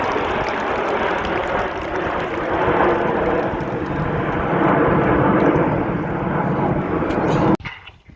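Red Arrows display jets roar past at an air show, a loud, sustained rushing jet noise that holds for several seconds, then cuts off abruptly near the end.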